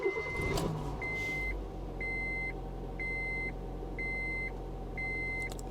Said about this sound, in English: so just start the car